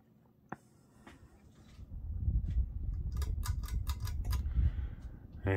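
A Hunter Original 52-inch ceiling fan with warped, wobbling blades runs at medium speed: a steady low whirring rumble rises after a quiet start, overlaid with rhythmic clicking and ticking.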